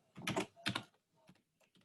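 Keys on a computer keyboard clatter as a command is typed, with two quick bursts of clicks followed by a few lighter, sparser taps, close and quiet.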